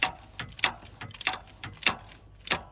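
Ratchet clicking in short bursts as a spark plug is slowly tightened on a 2002 Ford Explorer Sport Trac engine, crisp metallic ticks repeating in spaced clusters, close and fairly loud with no talking.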